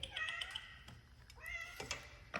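A house cat meows twice, close and fairly soft, each call a drawn-out, wavering tone over light indoor background noise and shuffling.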